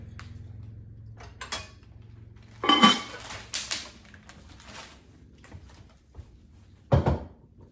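A decorative stamped ceramic bowl is handled and set down indoors, giving a few sharp clinks and knocks at separate moments, with quiet rustling and shuffling in between and no talking.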